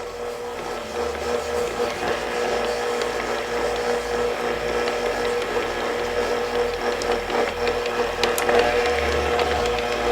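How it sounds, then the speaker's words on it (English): An electric mixer churning butter cookie dough with sugar at low speed, a steady close mechanical whir with a faint rattling texture that runs without a break and without any talking. "then I'm going to put my mixer down again on low speed to start, just until combined."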